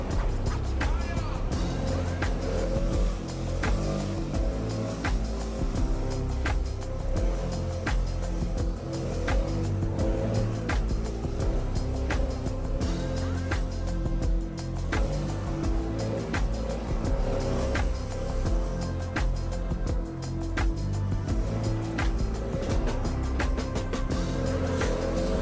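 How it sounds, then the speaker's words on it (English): Gas leaf blower pushing pine straw across a landscape bed with the throttle constantly changing: a loud, close motor roar that runs without a break, surging and easing unevenly throughout. "so you can hear just how much I'm revving the leaf blower"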